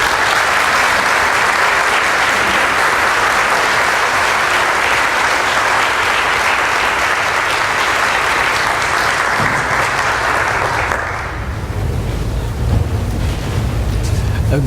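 A full chapel audience at Washington and Lee University's Lee Chapel applauds to welcome William C. Davis, dense sustained clapping that fades out near the end as the room settles.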